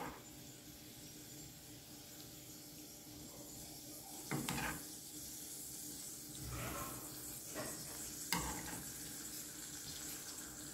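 Liver curry cooking with onions in a pan, a steady wet hiss of frying broken by a few clattering scrapes as the mixture is stirred, at moderate distance with no talk.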